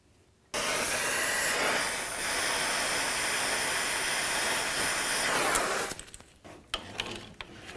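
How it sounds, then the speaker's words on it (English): Loud, steady hissing roar of torches heating a tie rod sleeve on a 1999-2007 Ford F-250, holding constant for about five seconds before cutting off to quieter clanks and handling noises. "I'm going to use some torches."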